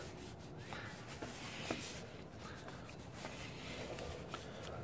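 Sandpaper rubs over GY6 scooter brake parts in a steady, close, faint gritty scratching with a continuous rhythm. No one talks.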